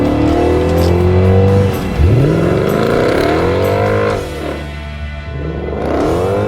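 A Mercedes W211 E-Class AMG with a 507 hp engine revs loudly and close, with repeated rising and falling sweeps of engine pitch as the throttle is blipped, some swells sharp and others drawn out, with no voices.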